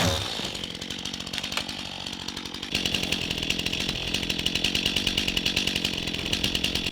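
A chainsaw cutting up large trees during land clearing on a homestead, its engine holding a steady, buzzing whine throughout, with a brief shift in load partway through as the chain bites into the wood.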